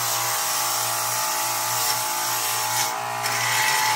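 A power tool grinds mill scale off knife steel for a Bowie knife or meat cleaver, giving a steady, close, continuous abrasive whir with a low hum underneath and no speech.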